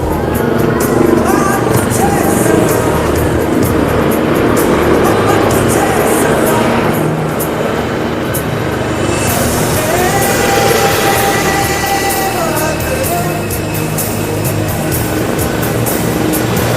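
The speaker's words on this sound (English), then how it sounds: "This was the Sarang helicopter display team" Indian Air Force Sarang helicopter display team passing overhead at an air force anniversary show in Tambaram, Chennai, a loud continuous rotor and engine roar that swells and fades slightly, with a voice talking over it.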